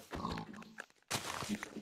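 Pig grunts in a Minecraft game, two short bursts of squealing oinks separated by a brief gap, close and fairly loud with no talk over them.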